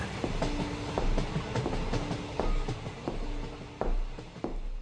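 A passenger train rolls into a village station, wheels clattering over rail joints in a regular clickety-clack rhythm with low rumble, moderately loud and steady without any talk.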